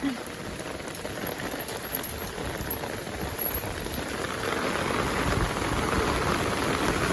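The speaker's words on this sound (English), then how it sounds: "This is just heavy rain all day long in one day rain." Steady, dense downpour of heavy rain drumming on surfaces, a constant broadband hiss with no letup throughout.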